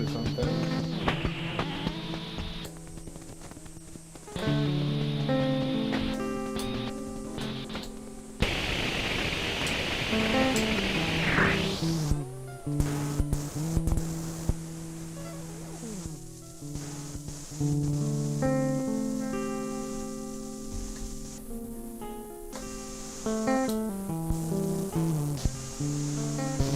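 Glitchy noise from a circuit-bent DeltaLab digital delay pedal: stuttering repeated tones, pitch sweeps and washes of static that shift unpredictably, sustained throughout with no voices.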